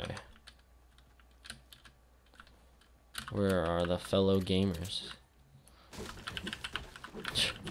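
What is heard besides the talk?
typing on an expensive computer keyboard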